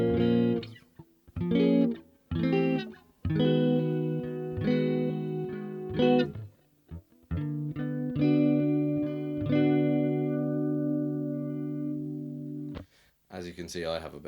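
Electric guitar playing the chord progression of a song, strummed chords ringing out in short bursts then longer sustained sections, with a pause before the final chord.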